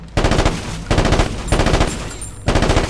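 Loud automatic gunfire from the Ghost Recon Advanced Warfighter video game, fired in four rapid bursts with brief gaps between them, close and dominant with no speech.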